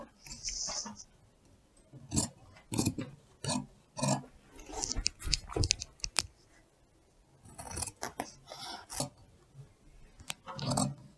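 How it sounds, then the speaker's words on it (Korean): Scissors cutting fabric for a skirt pattern, with the pattern pressed flat by hand, heard as repeated scraping snips in uneven bursts, close and moderately loud. "패턴을 놓고 손으로 눌러주면서"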